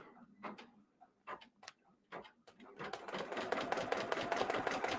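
A PR1X embroidery machine starts up after a few scattered clicks and taps, then settles into fast, rhythmic needle stitching with a steady mechanical chatter, close and moderately loud.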